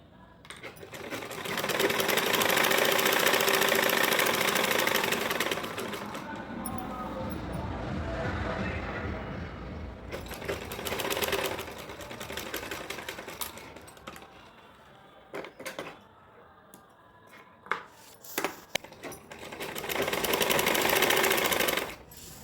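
A sewing machine stitches the side seams of a full-length Anarkali gown made from an old saree, running in long loud bursts with pauses filled by clicks, handling noises and talk.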